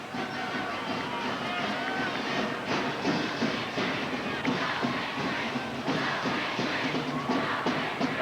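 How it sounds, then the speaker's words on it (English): Steady murmur of a large crowd filling a gym at a 1999 Nebraska Class C1 state volleyball championship match, a continuous dense hubbub with scattered voices rising and falling throughout. "As you can tell, we have a nice crowd here tonight."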